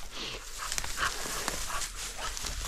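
A dog whimpers and yips close by at a lakeside fishing camp at Antalieptė reservoir, short whiny cries over steady outdoor background noise.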